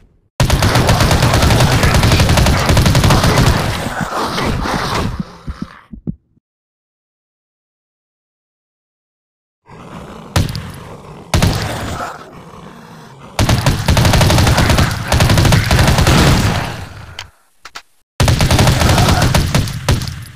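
Dense bursts of automatic and rapid gunfire from the zombie shooter game Dead Target Zombies, loud and close, coming in long sustained volleys broken by a silent gap and short pauses.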